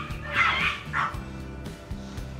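Dogs barking near a balcony, a few sharp yipping barks early on followed by fainter whimpers and a low hum in the background.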